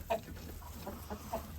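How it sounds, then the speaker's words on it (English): Chickens in a coop with a small yard give soft, low clucks in a few quick murmured bursts, close by over a steady background hum. "the chickens can go out to this little yard area here"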